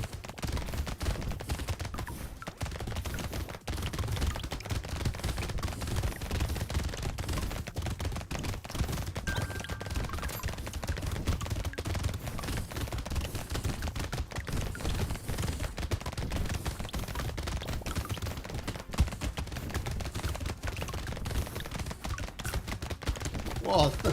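Rapid gunfire in the top-down shooter Brotato, a continuous dense stream of small crackling shots that never lets up, steady and mid-level throughout.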